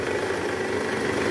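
A Toyota Camry engine idles in neutral as a steady, even mid-pitched hum with no revving, close by and alone.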